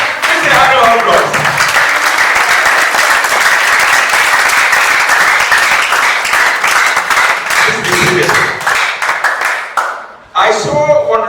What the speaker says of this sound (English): This is how to applause.